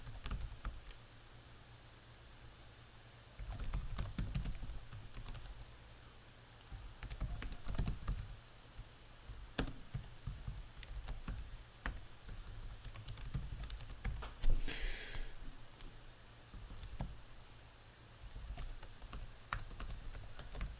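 Keyboard typing on a computer during a compiler programming session, with irregular bursts of clacking keystrokes close up, some louder flurries, and no speech.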